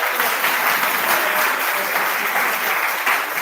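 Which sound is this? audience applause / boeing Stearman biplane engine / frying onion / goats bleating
audience applause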